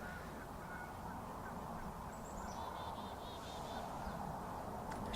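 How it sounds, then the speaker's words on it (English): Faint geese honk in the distance over a cemetery in Iowa in cold February, a short run of calls rising above steady wind or rumbling background noise. "There's geese."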